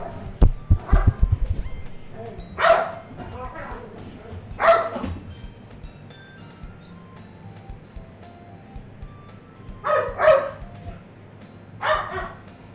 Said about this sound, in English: Hey, stop that barking, boy!